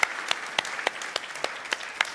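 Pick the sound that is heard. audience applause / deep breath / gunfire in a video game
audience applause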